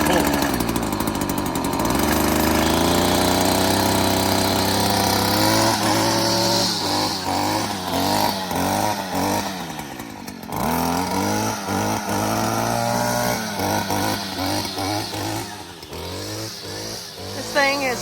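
A chainsaw engine at a circle sawmill runs loudly nearby, revving up and down repeatedly in uneven bursts with a rough, buzzing tone.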